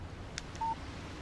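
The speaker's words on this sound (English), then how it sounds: "Text message from Barry." A phone text message alert sounds in the Alan Wake video game: a couple of quick faint electronic blips, then a short clear beep tone, all quiet and isolated.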